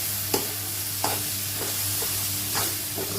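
Boiled green pigeon peas are stirred into frying tomatoes in a pan, a steady sizzle under repeated scraping strokes of a spoon at roughly regular intervals, close and clear with no talk.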